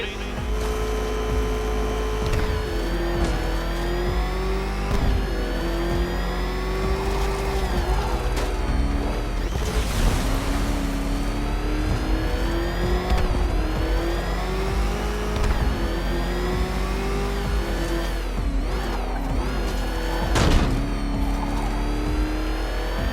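Batmobile engine from the video game Batman Arkham Knight, a loud continuous drone that rises and falls as it revs and accelerates, holding steady throughout with a sharp surge near the end.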